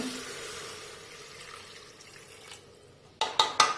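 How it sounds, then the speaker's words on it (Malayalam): A cup of water is poured into a pan of quail egg curry, making a soft, steady liquid rush that fades away, followed by a few sharp clinks at the end. "ആദ്യം ഞാൻ ഒരു കപ്പ് ഒഴിച്ചു കൊടുക്കുകയാണ്"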